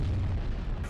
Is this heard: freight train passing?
no